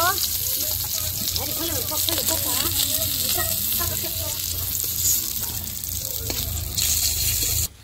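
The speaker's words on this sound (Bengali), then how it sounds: "মাছ আমি ভালো করে ভেজে নিচ্ছি" Pieces of rohu fish fry in hot oil in a pan, a loud, steady sizzle with crackles and the occasional scrape of stirring, and a voice speaks briefly over it.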